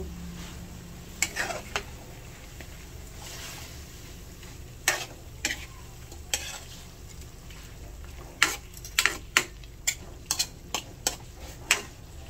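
Chicken adobo sautéing in a pan, a low steady sizzle running throughout with scattered sharp clinks and scrapes of a utensil against the pan, several quick taps clustered near the end.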